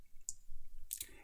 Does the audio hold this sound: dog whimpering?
no